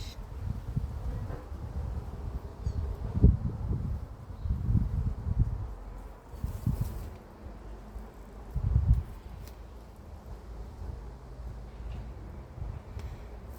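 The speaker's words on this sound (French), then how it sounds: "il y a du vent" Gusty wind buffets the microphone in low, rumbling bursts, rising and falling unevenly with a faint rustle above, no voices.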